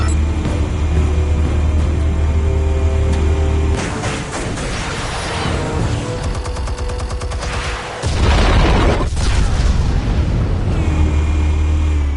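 Explosives detonate in a Batman video game amid heavy rumbling, with a burst of crackling blasts and rapid gunfire-like pops in the middle of a continuous low engine drone.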